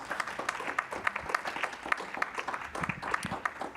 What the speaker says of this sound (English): Can I get a round of applause for my panel,